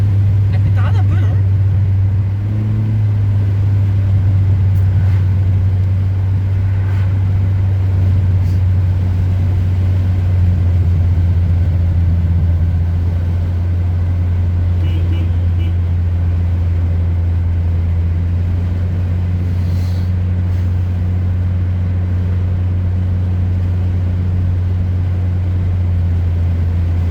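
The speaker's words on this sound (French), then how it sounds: "Elle pétarade un peu, non?" Honda Prelude engine idling with a steady low hum and occasional faint pops of backfire, close and continuous throughout, with people talking over it.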